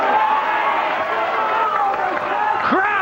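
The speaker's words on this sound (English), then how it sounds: "Crowd cheer on the Brit." Spectators at a 9-ball pool championship match cheer a British player, a steady roar of voices and clapping at moderate distance, with a sharp whoop near the end.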